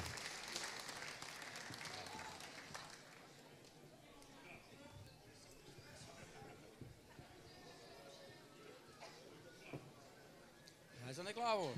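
Applause from an audience at a carnival show in Kaaiendonk for the conductor Waldo van Wijk, a fairly faint, steady patter of many hands clapping that fades over several seconds, with voices speaking over it near the end.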